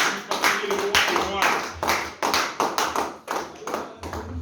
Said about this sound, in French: Applaudissez un peu le nom de Jésus.